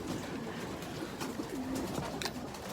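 Young racing pigeons of the 2020 season coo inside a loft, soft low rolling calls repeating under a steady background hum, with a few sharper flutters and clicks near the end.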